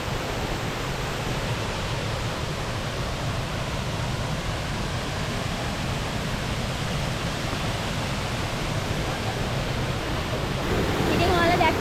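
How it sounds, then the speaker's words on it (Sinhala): Tattu Ella, a tiered waterfall in the Sinharaja rainforest of Sri Lanka, gives a constant, broad rushing roar of falling water, close and unbroken, swelling slightly toward the end. "මේ තමයි තට්ටු දිය ඇල්ල."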